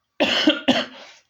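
A small cough in two quick, harsh bursts, close and fairly loud, with a short breathy tail and nothing else heard around it.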